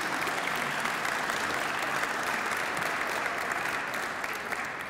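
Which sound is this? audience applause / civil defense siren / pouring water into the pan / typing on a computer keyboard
audience applause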